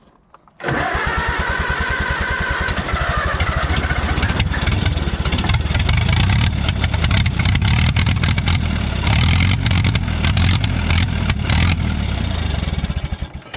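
An Allis Chalmers WD tractor engine, unrun for 25 years and fed ether, cranks and then chugs loudly in a fast, rough rhythm, running unevenly close by before cutting out.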